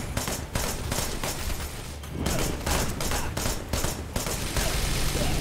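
Dense, sustained gunfire in the video game Wanted: Dead, with rapid overlapping shots and bursts, loud and continuous with only brief gaps, like an intense firefight.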